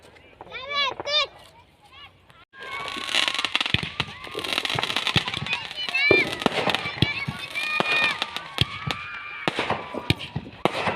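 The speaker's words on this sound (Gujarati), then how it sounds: "જોઈએ આપણે ફટાકડા ફોડી રહ્યા છે." Diwali firecrackers set off in a rural village celebration: a rapid run of sharp pops and crackling bursts, fairly close, with people talking and shouting throughout.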